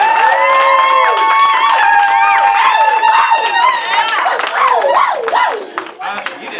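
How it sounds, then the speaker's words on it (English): A live audience claps and cheers loudly for the performer Nick LaFleur, with brisk clapping under sustained whoops and shouting voices that rise and fall before tapering off near the end. "One more time, a round of applause for Nick LaFleur"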